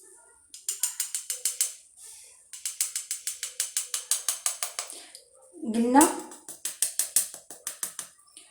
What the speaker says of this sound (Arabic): غادي ناخذ الكاكاو غادي نغربلو